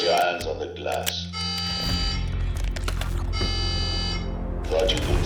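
An alarm buzzer sounds in the Call of Duty Black Ops 6 video game, a harsh repeating electronic tone blaring loudly over music and voices.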